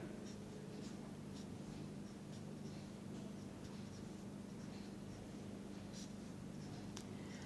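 Pen or chalk writing on a board during a chemistry lecture on main group compounds, a series of soft scratchy strokes over a low steady room hum, fairly quiet and without talk.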